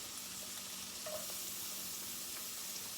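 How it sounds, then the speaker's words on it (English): Scallion whites sautéing in olive oil over low heat, giving a faint, steady sizzle with a few soft stirring scrapes and no voices. "this is the white part which I'm sauteing"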